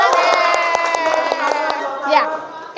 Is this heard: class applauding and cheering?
yes